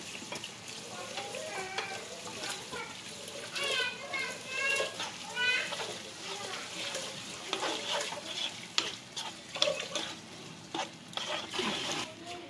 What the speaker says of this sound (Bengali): এই যে মশলা কষানো হয়ে গেছে, এখন লইট্টা মাছগুলা দিয়ে দিচ্ছে।